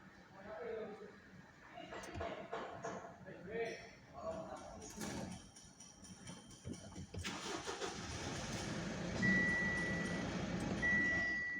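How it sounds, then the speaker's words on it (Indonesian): A Mitsubishi Pajero Sport cranks and starts with the brake pressed, then settles into a steady idle as warning beeps chime, while someone talks over the engine. "Harus injak rem ya ketika mau di starter."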